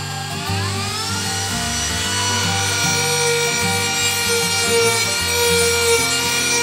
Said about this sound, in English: let's get the Dremel out.